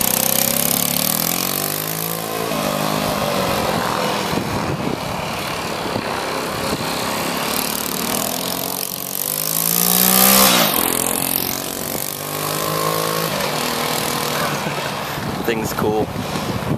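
A 1965 Honda CT motorcycle's small engine idles and revs in bursts, rising and falling close by, with people talking over it.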